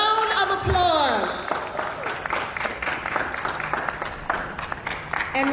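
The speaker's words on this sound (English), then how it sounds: "Let's give them all a round of applause." Audience applause for Nurse of the Year nominees at an awards announcement, a steady wash of many hands clapping that builds after a brief swell and carries on throughout.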